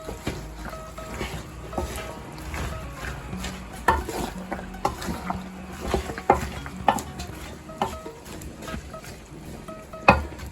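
A spoon stirs Gambian-style okra soup in a pot, making irregular scrapes and clinks over a soft background bubbling.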